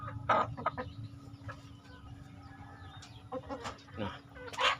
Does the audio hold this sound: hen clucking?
yes